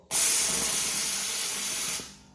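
A Karcher SC3 steam cleaner with a newly repaired water pump releases a loud, steady jet of steam. The hiss starts abruptly, holds for about two seconds and then cuts off, with no voices.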